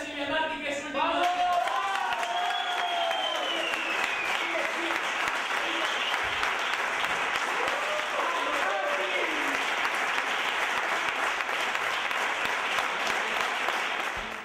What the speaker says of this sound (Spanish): ¡Aplaudimos directamente a Silvia Marti, que es última!